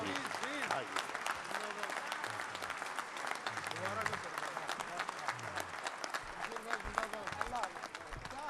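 An audience at an Urdu poetry mushaira gives a sustained round of dense applause, with a crowd of many hands clapping steadily and voices mixed in underneath.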